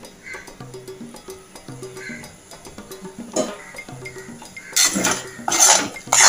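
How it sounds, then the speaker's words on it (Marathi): Egg bhurji stirred in a pan with a metal spoon, a run of light rhythmic scrapes and clinks against the pan, close and fairly quiet, with a few sharper clatters near the end. "आता ही अंडी शिजेपर्यंत आपण ढवळत राहूया"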